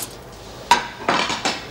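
Cutlery and dishes clink at a prison mealtime, with three sharp metallic clatters in quick succession against a quiet room.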